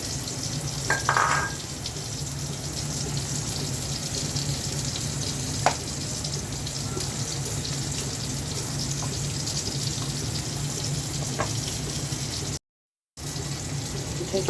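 Pangas fish curry with pumpkin sizzles and bubbles in a pan, a steady close frying hiss with occasional clinks of a utensil and a brief moment of silence near the end.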